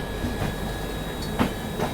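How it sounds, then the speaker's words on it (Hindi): Kanpur Shatabdi Express rolling side by side with a Rajdhani Express, a steady close rumble of train wheels and carriages with a few rhythmic clacks and thumps on the rails. "ये देखो भाई साहब एकदम बगल बगल में चल रही हैं शताब्दी और राजधानी एक्सप्रेस, दोनों ही गाड़ियाँ।"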